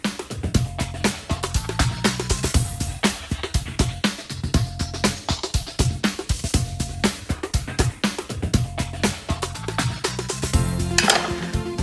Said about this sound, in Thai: นี่เต้าหู้แข็งนะครับมาเป็นแบบนี้เลยเราจะหั่นให้มันเป็นแท่งตามสไตล์ของผัดไทยนะครับ